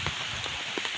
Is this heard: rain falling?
yes